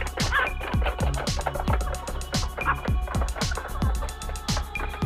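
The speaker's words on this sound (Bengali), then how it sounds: "এই যে এগুলা কিন্তু ডিম পাড়া মুরগি, আর এখানেও আছে ডিমের মুরগি।" Egg-laying hens on a farm cluck and squawk in quick, uneven bursts, close by and fairly loud, over steady background noise.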